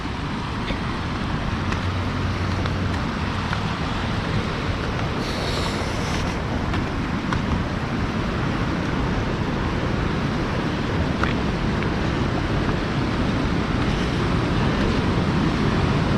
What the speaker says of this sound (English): The water does come along here and drops over here and then continues down.